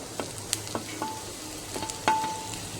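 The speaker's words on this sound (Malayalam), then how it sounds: "ഇതെല്ലാം കൂടി ഒന്നുകൂടി ഒന്ന് വഴറ്റാം." Chopped ripe tomatoes sautéing in a pan for a Kerala taro leaf curry, with a soft steady sizzle broken by a few close, sharp scrapes and clicks of stirring.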